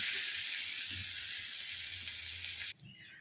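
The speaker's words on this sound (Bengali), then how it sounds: "টমেটোটা যতক্ষণ না জল বের হয়ে নরম হচ্ছে ততক্ষণ আমি এটাকে ভেজে নেব।" Chopped tomato sizzles in a frying pan with a strong, steady hiss close up, which cuts off near the end into a quieter tap.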